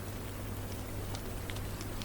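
Steady, soft rain falls on a surface with a constant hiss and a low hum beneath it, with a few scattered brighter droplets. Quiet, calm and continuous, with no voices.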